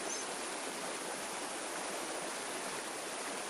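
A flowing river, a steady, even rush of water that fills the whole clip, moderately quiet and continuous with no voices.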